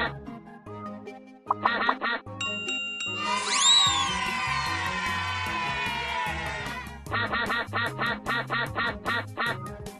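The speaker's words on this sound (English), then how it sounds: "Oh no! All the ducks have escaped!" Ducks quacking in a cartoon-like sequence: repeated bright quacks in rhythmic bursts, a rising chime-like swoop in the middle, then more rapid quacks toward the end, loud and close.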